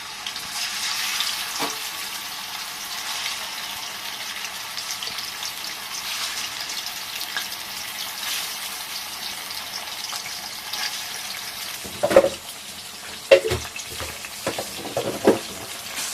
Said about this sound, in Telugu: ఇప్పుడు దీంట్లోకి మనం ఫిష్ వేసుకొని గోల్డెన్ కలర్ వచ్చే వరకు ఫ్రై చేసుకోవాలి.